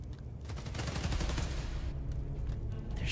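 Gunfire in the Marvel's Spider-Man: Miles Morales video game, a fairly faint burst of rapid automatic shots rattling for a couple of seconds under game ambience.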